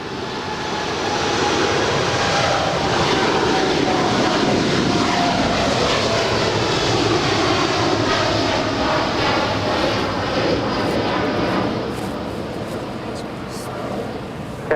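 A jet airliner roars past at Los Angeles LAX airport, a loud sustained engine rumble and whine that holds steady and slowly fades toward the end, with a voice talking under it.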